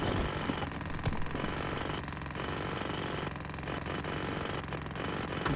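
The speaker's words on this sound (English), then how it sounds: "Just kind of jackhammer it up." A jackhammer breaks up concrete in a demolition video game, its rapid pounding coming in repeated bursts about a second apart over a low engine hum, with no talk.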